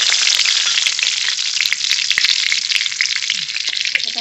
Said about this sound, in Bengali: চিংড়ি মাছের মালাইকারির জন্য ফোড়ন করে নেব।